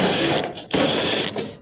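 Steady whirring of a power driver backing out 1/4-inch screws from a clothes dryer panel, two sustained bursts with a short pause between, close and fairly loud with no talking.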